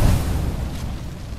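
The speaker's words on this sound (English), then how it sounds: "Throwing thermite grenade." A thermite grenade going off in Apex Legends: a loud, deep boom at the start that rolls into a sustained low rumble and crackle, staying dense and heavy throughout without fading out.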